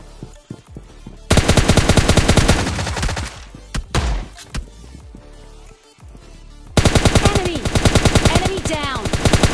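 AK and M4 rifle gunfire in a shooting video game: loud, close sustained automatic bursts, one long burst, a pause with scattered shots, then another long rapid burst.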